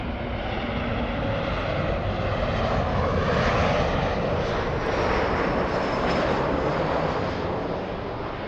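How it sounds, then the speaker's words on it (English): Southwest Airlines airliner arriving from Las Vegas, Nevada, a loud steady jet engine roar that swells slightly as it passes overhead, with no talk. "Southwest flying in from Las Vegas, Nevada"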